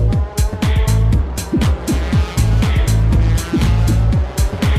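JGTC race cars, the Advent Supra among them on soft Yokohama tires, scream past at the Sugo circuit in a loud, rapid string of revving engines and sharp gear changes.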